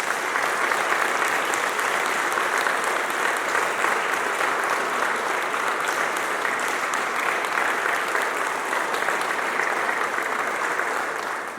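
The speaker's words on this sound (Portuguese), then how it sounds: "E uma salva de palmas para Jesus." A church congregation claps together in a dense, sustained round of applause that fills the room evenly for several seconds before starting to fade at the end.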